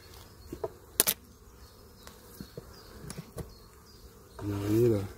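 Honeybees buzzing around hives, a faint steady drone with scattered clicks and knocks, then a louder close buzz as one passes near.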